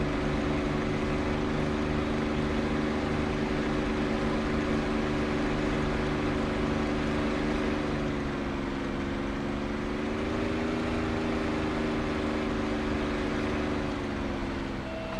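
P-51 Mustang propeller engine droning in DCS flight simulation during formation flying, a steady loud low hum with a slight pitch shift midway, continuous with no voices.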